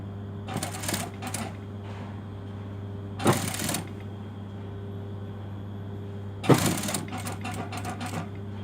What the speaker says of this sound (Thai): ให้ชนให้แน่นเลยนะ เราก็ เย็บไปนะคะ